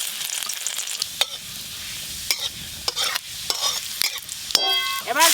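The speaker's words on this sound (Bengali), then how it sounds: "তেল গরম হয়ে গেছে, এবার রসুন কুচি দিয়ে দেবো।" Chopped garlic hits hot mustard oil in a wok, giving a steady close sizzle broken by several sharp clatters and scrapes of stirring, with a louder burst of spattering near the end.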